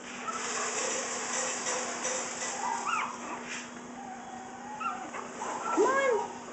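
Shih Tzu puppies at play whimper and yip in short, high-pitched bursts, with a few sharper cries near the end, close to the microphone over a faint steady hum.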